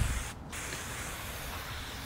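Labocosmetica Preludio rinseless wash sprayed onto a car from a trigger bottle, a continuous close hiss with one brief pause near the start and no speech.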